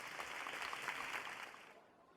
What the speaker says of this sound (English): Everyone bursts into applause for Privity.